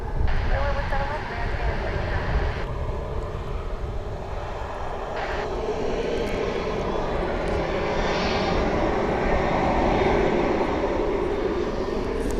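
A jet airliner rumbles steadily on a runway at DFW International Airport, its engine roar continuous and fairly loud throughout, with an air traffic control voice talking over it.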